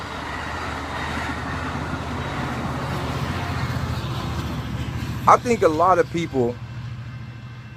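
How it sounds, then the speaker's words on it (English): A passing train makes a steady, loud rumble throughout, with someone talking over it near the end. "wait till this train go by"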